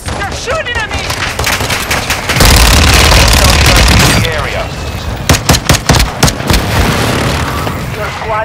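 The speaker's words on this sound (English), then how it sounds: "Hostile mortar strike near your position. Enemy precision airstrike." A Call of Duty: Modern Warfare II Warzone match erupts with a mortar strike and enemy precision airstrike: loud booming blasts, a sustained roar of explosions, then sharp rapid bursts of gunfire.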